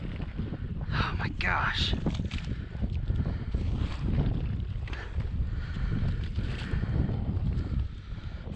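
Wind buffets the microphone in gusty, rumbling bursts while kayak bass fishing on open water, loud and close throughout, with a person briefly exclaiming over it.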